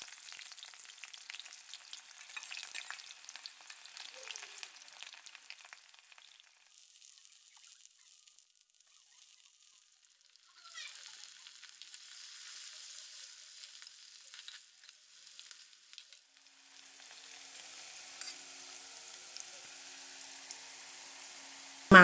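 Onion, panch phoron, a dried chilli and turmeric frying in hot oil for a chicken curry, a soft steady sizzle with faint crackles and a brief stirring scrape near the end, no voices.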